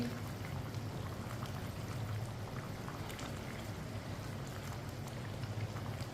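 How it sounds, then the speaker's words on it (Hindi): Pot of water at a rolling boil on a stovetop over a raised flame, being readied for salted rice: a steady, dense bubbling and hiss that runs continuously at moderate level without talk. "पानी को बॉयल आ चुका है"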